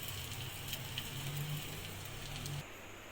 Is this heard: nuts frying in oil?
yes